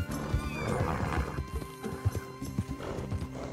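Horse hooves clip-clopping in a steady rhythm with a loud neigh, in a Red Dead Redemption 2 video game, close and clear with no talk.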